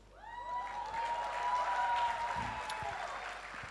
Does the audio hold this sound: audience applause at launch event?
yes